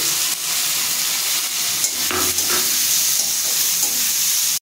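Soaked red lentils tumble into a pot of hot oil with cinnamon, cardamom and cloves for prawn khichuri, setting off a loud, steady sizzle with stirring scrapes close by.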